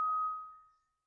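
A metal skimmer ladle (jhara) in a home kitchen gives a single bright metallic clink, its ringing tone fading away within about a second into silence.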